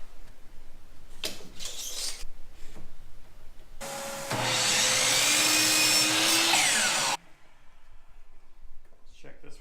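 A miter saw cuts 2x2 wood pieces to length for a desk built from crib parts, a loud steady whining buzz lasting about three seconds close by, with quieter workshop sounds before and after.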